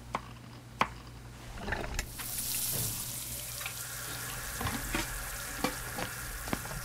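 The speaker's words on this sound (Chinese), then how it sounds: "店长，牛排你打算煎多久？" A steak fries in a pan in a shop kitchen, a soft steady sizzle with rising hiss partway through, punctuated by occasional clinks and taps of utensils nearby.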